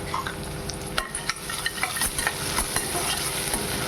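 Peanuts sizzling in hot oil in a pan for upma while a utensil stirs them, steady frying hiss punctuated by scattered scraping and clinking stirs, close and moderately quiet.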